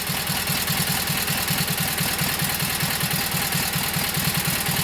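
A Kohler KT17 twin-cylinder engine with a lost governor runs steadily just after its first start, a close, even idle with a regular low pulsing throb and constant mechanical hum, no voices.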